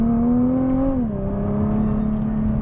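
Nissan GT-R driving fast through curves on a mountain pass, a steady loud engine drone whose pitch drops partway through as it eases off, then holds a lower even tone.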